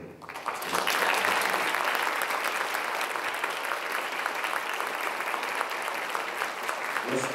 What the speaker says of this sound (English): let's give a big round of applause to the students that organized this and our panel for tonight one more time.